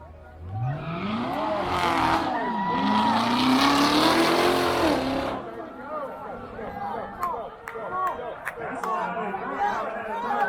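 Tesla and a Corvette ZR1 launching in a drag race at a spectator drags event, a loud rising engine roar sweeping past and fading, followed by crowd chatter and voices.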